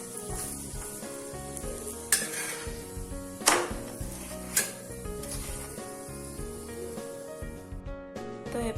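A coconut paratha roasts dry on a hot pan without oil, giving a steady close sizzle and hiss broken by a few sharp scraping turns, with a faint tonal hum beneath.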